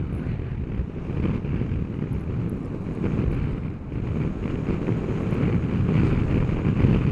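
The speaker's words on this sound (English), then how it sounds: "We've got a headwind." Heavy wind roars against the microphone in a constant low buffeting rush while riding a 2021 Super Soco CPX electric scooter into a headwind, with no talking.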